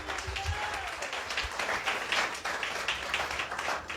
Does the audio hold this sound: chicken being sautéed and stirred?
no